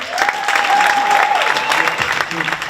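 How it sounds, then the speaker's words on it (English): An audience at a middle school spring concert claps in a full round of applause for a jazz band, with a voice or sustained tone rising briefly over the noise. "I got one more round of applause for our jazz band."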